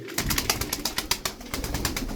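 Tumbler pigeons kept as play birds coo in a quick rhythmic run of soft throaty pulses, close and fairly loud, with no voices over them.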